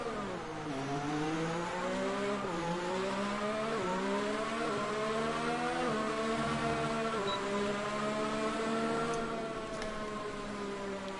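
A Racing Point Formula 1 car in the F1 2019 video game, racing at the British Grand Prix, its high engine note rising steadily through each gear and dipping at every upshift in a repeated sawtooth pattern, steady and unbroken throughout.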